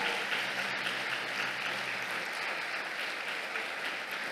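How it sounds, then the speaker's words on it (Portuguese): Congregation at a praise worship service applauding steadily, a dense, even wash of many hands clapping close by, with no voices breaking through. "Então dê uma salva de palmas a Ele, em louvor a Ele."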